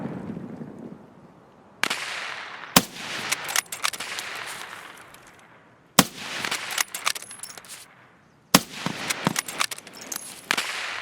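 Gunfire from a T-5000 sniper rifle in Escape from Tarkov: four loud, sharp single shots, each followed by a long fading echo tail, spaced a few seconds apart with no talking.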